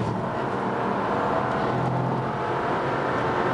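A BMW 335i sedan is driven on a lap at Laguna Seca. Its engine makes a steady loud drone under a dense rush of wind and road noise, heard from inside the car with no talk.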